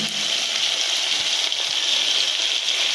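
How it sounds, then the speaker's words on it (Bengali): Ground spice paste with turmeric and tomato pours into a hot pan for a potato and katla fish curry, making a loud, continuous rushing hiss close by, with no talking. "মশলাটা ঢেলে নিচ্ছি আমরা"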